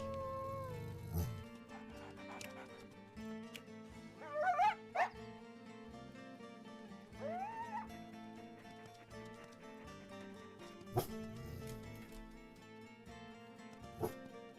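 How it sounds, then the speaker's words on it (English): Coyotes in the wolf-life game WolfQuest give a few short, rising yips and whines over a steady background of in-game ambience, with no one speaking. "Ooh, coyote, coyote, coyote, coyotes."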